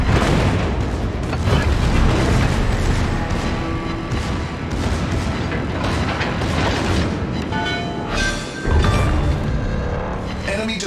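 Naval guns fire and shells explode in a warship video game featuring the German ship Schlieffen, a dense, loud barrage of booms and rumbling blasts running continuously under background game noise.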